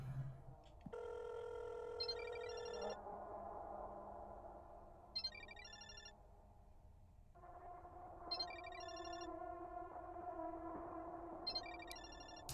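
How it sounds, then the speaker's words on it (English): Phone ringtone in the horror game Parasocial: a sustained electronic ring tone repeats in bursts over steady ambient game music, with a few short beeping chirps between rings, moderately loud and with no talking. "Oscar's ringtone. I think it's coming from the balcony."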